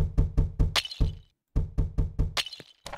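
In a fake Minecraft video game, glass breaks twice, each time as a run of hollow plastic thunks like Lego bricks ending in a bright crash, with a short gap between, close and clear.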